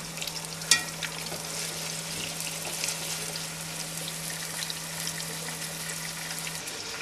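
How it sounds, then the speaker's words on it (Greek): Lamb chops sautéing in olive oil in a saucepan give a steady, close, even sizzle and crackle, with a brief sharp clink near the start and a low hum running underneath. "We've just placed the lamb chops into the saucepan and they're being sauteed now with the olive oil."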